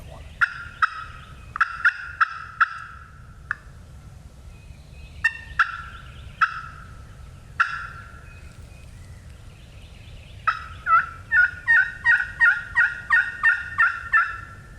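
Repeated loud gobbling calls from a wild turkey in a burned Florida forest on public land, several bursts spaced over several seconds, then a rapid run of gobbles near the end, with faint background rumble.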